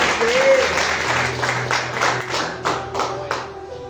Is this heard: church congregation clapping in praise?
yes